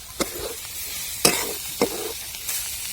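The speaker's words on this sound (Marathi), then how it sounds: "चांगला परतून घ्यायचं जे पूर्ण जे मसाल्याचे पूर्ण त्याच्यात एक जीव झाला पाहिजे" Crushed green chickpeas with spices stir-fried in a pan: a close, steady sizzle punctuated by four or five sharp spatula scrapes at irregular intervals.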